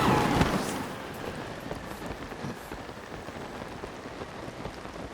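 Steady rain falls in Zelda: Tears of the Kingdom, a dense, even patter of drops on the ground that holds throughout, starting with a slightly louder swell and no talking.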